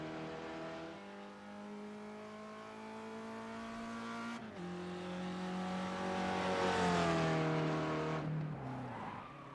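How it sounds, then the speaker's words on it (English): Spec Racer Ford in the iRacing sim at Silverstone locks its tires under braking, a loud engine drone dropping in pitch as a sustained skidding squeal rises and fades over several seconds, with no talk. "bit of a lockup there down into the braking zone"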